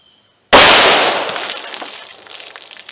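A single sharp gunshot from a .38 Special pocket pistol firing a 110-grain +P round into a Juggernaut box bursts out after half a second of silence, loud and close, then trails off in a long ringing decay.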